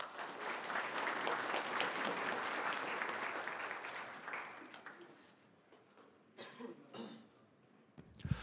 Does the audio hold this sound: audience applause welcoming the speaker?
yes